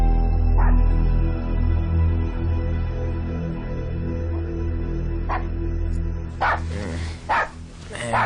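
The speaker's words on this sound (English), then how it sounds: "Man, what's that dog barking at" A dog barks outdoors at midnight, a few sharp distant barks spaced apart, then a closer cluster of louder barks near the end over a steady low background hum.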